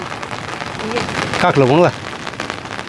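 Steady rain falls on a hillside village home in the mountains, where cattle stand out in the wet, making a continuous hiss that runs under a voice throughout.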